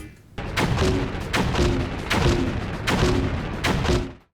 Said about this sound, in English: the concussion cannon might be the worst shotgun in gaming history